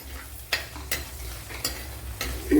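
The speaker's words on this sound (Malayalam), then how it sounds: "ഒരു 4 പച്ചമുളക് എടുത്തിട്ടുണ്ട്, അത് ഇട്ട് കൊടുക്കാം" Green chillies, about four, frying in a pan of oil for a horse mackerel fish curry: a steady soft sizzle with a few sharp stirring scrapes, close and alone without talk.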